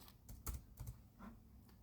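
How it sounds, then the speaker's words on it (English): Keys clatter on a computer keyboard during a Linux terminal session, a short quiet burst of several uneven taps with small gaps between them, close by. "So I'm typing Inksy"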